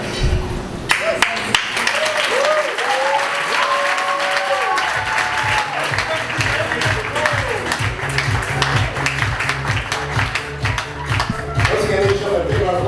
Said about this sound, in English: let's show a big round of applause for the Baraat dance crew